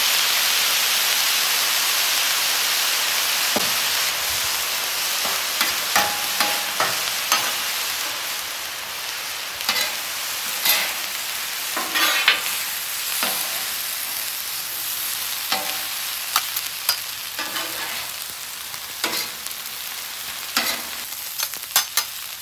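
Fried rice with soy sauce sizzling on a flat-top griddle beside a steak and shrimp hibachi cook, a loud steady hiss broken by sharp spatula scrapes and taps, with no talk.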